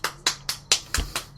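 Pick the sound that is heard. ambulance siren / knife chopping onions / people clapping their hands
people clapping their hands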